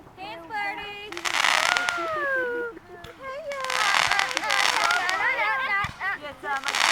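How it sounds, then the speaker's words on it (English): A small strobe-light firework fizzes and crackles in hissing bursts and scattered sharp pops, mostly under near, lively chatter and excited voices of children and adults. "It's a flashy, special strobe light firework."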